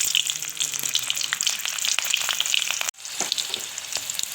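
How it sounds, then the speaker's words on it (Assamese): Cumin seeds and two split green chilies crackle and sizzle in hot oil, a dense steady frying hiss with scattered pops throughout and a brief break near the end. "তেলটো গৰম হৈছে, মই এতিয়া ইয়াত জিৰা এচামুচ দিছোঁ আৰু লগতে কেঁচা জলকীয়া 2টা মাজতে ফালি দি দিছোঁ।"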